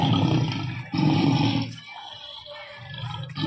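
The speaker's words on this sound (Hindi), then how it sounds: "इस मशीन में सिक्का डालोगे तो साइड में से स्पीकर बजने लगेंगे और शेर की दहाड़ सुनने को मिलेगी" A recorded lion roar plays through the side speaker of a coin-operated machine, a loud, continuous broadband roar that swells, dips briefly and rises again, with no talking over it.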